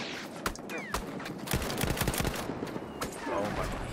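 Gunfire in the Battlefield 1 video game, where rapid bursts of shots crack in quick succession at close range, loud and sharp throughout.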